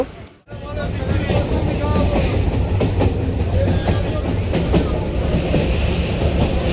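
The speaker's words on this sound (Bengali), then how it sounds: "তো ট্রেন অলরেডি ছেড়ে দিয়েছে" A moving passenger train rumbles along in India with a steady, loud roar and faint rhythmic wheel clatter, nearby and continuous after a brief dip at the start, with a person talking now and then.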